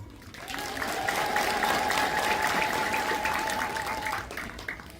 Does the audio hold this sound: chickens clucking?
no